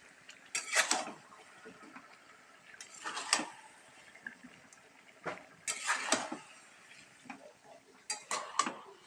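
Chicken stirred in a cooking pot with a utensil, bringing intermittent metallic clanks and scrapes in uneven bursts at moderate volume, with quieter rustling between them.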